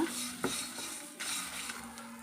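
Tomatoes frying in a pan for pepper gojju give off a faint sizzle, with a spoon scraping and stirring against the pan in a few quick, light strokes.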